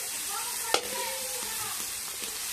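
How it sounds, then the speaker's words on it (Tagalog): Shrimp frying in butter in a pan, a constant bright sizzle and crackle close by, with a sharp clink of utensil against the pan near the start and faint stirring scrapes after. "Luto na ako sa ating shrimp guys. Butter yung giluto ko guys."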